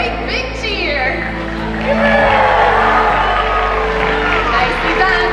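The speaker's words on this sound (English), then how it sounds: "let's go ahead and give her a great big cheer" A stadium crowd at a SeaWorld orca show cheers loudly for a killer whale, with whoops and shouts rising into a sustained roar over background music.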